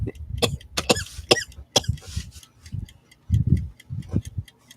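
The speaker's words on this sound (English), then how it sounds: "Obviously, I got a little bit of a cough." Several short, sharp coughs up close, mixed with scattered clicks and ticking sounds, with gaps of quiet between bursts.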